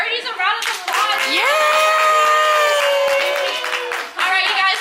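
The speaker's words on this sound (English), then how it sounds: "let's give our birdies a round of applause" Parents and young children clap together at a gym class, a brief burst of hand claps mixed with a sung or drawn-out cheering voice and children's chatter.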